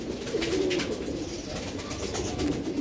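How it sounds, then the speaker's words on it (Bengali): A pair of brown-necked racing pigeons coo softly in low, repeated murmuring calls, close by, over faint background hiss and a few tapping sounds. "এখানে এক জোড়া কবুতর আছে, খয়রা গলা কবুতর"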